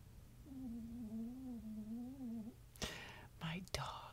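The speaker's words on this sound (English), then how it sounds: "My dog snoring." A dog snores with a soft, wavering nasal tone lasting about two seconds, followed by a few brief breathy snorts, faint and close.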